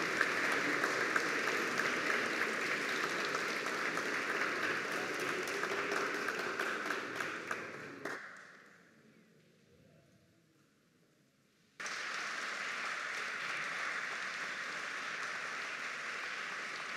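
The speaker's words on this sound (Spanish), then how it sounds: "Fuerte las palmas." Applause at a Peruvian presidential commemorative ceremony: a large crowd claps steadily for about eight seconds, then fades to near silence before another loud, sustained burst of clapping resumes.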